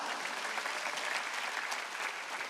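A church congregation at a Wednesday worship service claps together in a steady, dense burst of applause, distant and fairly quiet, filling the hall without any voices over it.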